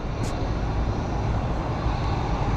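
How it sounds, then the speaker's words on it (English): Steady broad roar of an airplane flying near an airport, loud and continuous throughout, with no talk over it. "There's an aeroplane."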